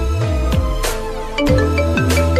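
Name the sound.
mobile phone ringing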